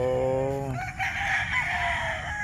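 A Boston Black gamefowl stag crowing nearby, a single crow whose strained, harmonic-rich opening note breaks into a hoarse, ragged tail, fairly loud against a noisy farmyard background.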